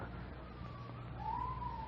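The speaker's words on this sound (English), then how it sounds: "Police siren." A police car siren wails faintly in the distance, a thin rising tone with no voices over it.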